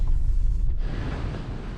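Strong outdoor wind buffeting a microphone near a shop, a loud low rumbling roar with gusty surges that ease slightly toward the end.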